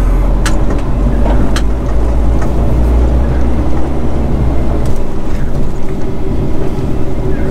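Steady car engine and road rumble from inside a vehicle circling a city block, loud and continuous with wind noise and no talking.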